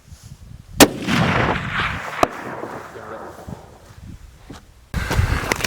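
A hunting rifle is fired while being sighted in before a late-season elk hunt, with two sharp loud shots about a second and a half apart, followed by quieter outdoor rustling and handling noise.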